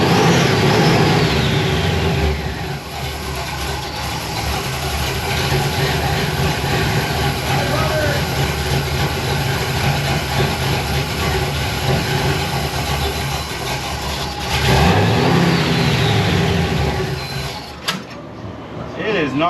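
A big block engine in a C10 pickup truck with a freshly built carburetor running rough, a loud low rumble that rises in two revving surges, with people talking over it.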